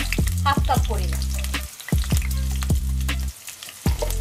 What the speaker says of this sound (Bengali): দিয়ে দিচ্ছি পেঁয়াজ কুচি হাফ কাপ পরিমাণ